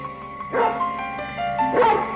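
A dog barks in a radio drama episode, two short bursts a little over a second apart over a steady background hum, fairly close and moderately loud.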